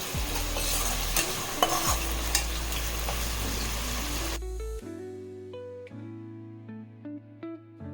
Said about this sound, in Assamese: আৰু এইফালে চিকেন ফ্ৰাই হৈ আছে